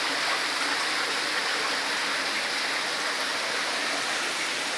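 Water rushing steadily through a cave below a waterfall, an even, unbroken hiss of flowing water close by with no other sounds standing out.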